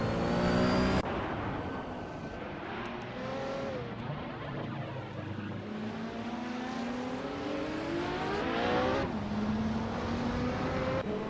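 A 1971 Porsche 917 LH race car engine screams in a loud, continuous howl, its pitch rising with each acceleration and dropping sharply at gear changes, sustained throughout.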